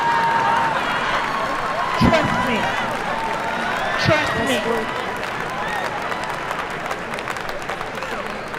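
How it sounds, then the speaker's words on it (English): Conference plenary audience breaks into sustained applause, a dense, steady clapping wash mixed with scattered cheers, while a speaker briefly talks over it. "That's worth an applause."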